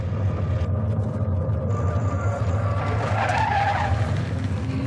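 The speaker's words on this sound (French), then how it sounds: "tu veux le dérapage?" A Jeep Trackhawk SUV skids with loud, sustained tire squeal rising over a steady, close engine rumble, the screech swelling toward the end.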